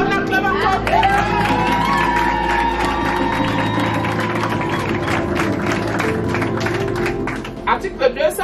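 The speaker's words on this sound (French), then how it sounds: "On acclame encore." Wedding guests cheer and applaud at a civil ceremony, a sustained crowd roar with clapping and voices throughout, easing toward the end with a few separate claps.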